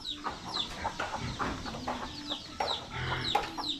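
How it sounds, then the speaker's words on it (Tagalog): Egg-laying farm chickens cluck repeatedly in a pen, with irregular bursts and short calls close by and no talking. "May mga manok dyan nangingitlog."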